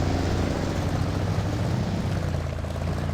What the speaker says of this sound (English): big engine just spluttering away, and that sounds great